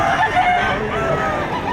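At a livestock auction market in Padre Garcia, Batangas, a nearby rooster crows loudly, its drawn-out call wavering over a busy, noisy background.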